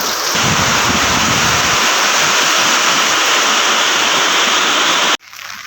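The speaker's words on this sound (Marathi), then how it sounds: "आपण पाईप टाकलेला आहे आणि हे पाणी इकडे निघतंय" Rainwater from a flooded cricket ground gushes out of a drain pipe in a loud, steady roaring rush at close range, cutting off abruptly near the end.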